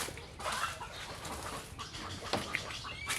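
Chickens clucking continuously at close range over a steady background hum, with a few sharper calls standing out.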